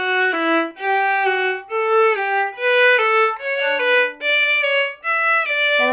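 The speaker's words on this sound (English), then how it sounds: "on the way up, the upper neighbor is going to slur down to the main note of the scale" A melodic instrument plays an ascending scale, each step preceded by a slurred upper neighbor note dropping to the main tone, smooth and close.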